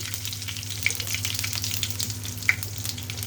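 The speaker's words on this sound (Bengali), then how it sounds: "এখন হচ্ছে সুন্দর করে ভেজে নিব মশলাগুলো" Dried red chillies, bay leaves, whole cumin and spices frying in hot oil in a home kitchen, a steady soft sizzle with a couple of faint pops, no voices.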